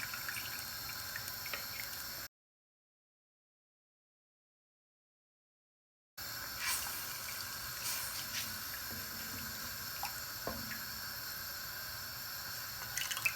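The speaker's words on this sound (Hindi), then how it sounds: "एक कप के करीब पानी मैं और ऐड कर रही हूँ।" About a cup of water added to a pot of kadhi, a faint running, pouring wash heard close before and after a gap of silence, with no voices.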